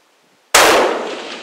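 A single loud rifle shot from a 7mm PRC long-range rifle cracks out of near silence and trails off in a long, ringing decay.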